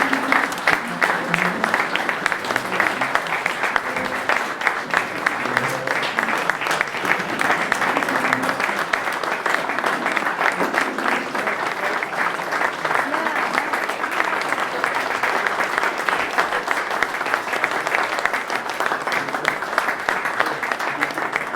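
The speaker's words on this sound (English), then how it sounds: "Please, let's give a round of applause for our winner of Citizen of the Year." An audience at the Madison Chamber annual awards and installation banquet claps for the Citizen of the Year winner, a dense, sustained round of applause that stays loud and even for about twenty seconds.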